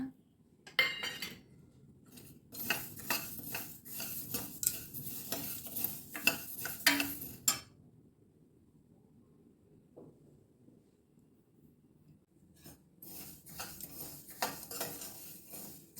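A utensil scrapes and clatters in a kadhai while spices for a traditional chilli pickle are stirred, with rapid rhythmic scraping in two bursts separated by a quiet pause, close and fairly clear.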